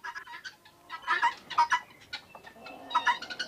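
Several guinea fowl give harsh, rapid, repeated cackling calls in bursts, fairly close, with a softer chatter in between.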